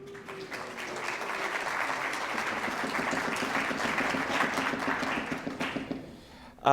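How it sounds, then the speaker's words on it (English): Audience applause after a unanimous aye vote at a historical reenactment with Thomas Jefferson and Martha Washington characters, a warm, steady round of clapping over a low hum, fading near the end before a sudden sharp sound. "Round of applause."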